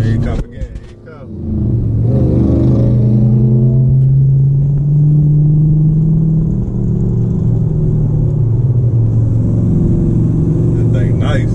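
A Dodge Charger RT and a Corvette C2 427 race past, loud engines roaring up and holding a strong sustained drone with shifting pitch after a brief noisy start, with voices heard early in the scene.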